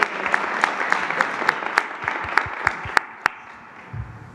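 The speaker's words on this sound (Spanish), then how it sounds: "Un aplauso a Defensa, a los ingenieros militares, al general Vallejo" Applause at a presidential press conference in Mexico, a scattered clapping that grows into sharp, distinct claps from a few nearby hands, then thins out and dies away near the end.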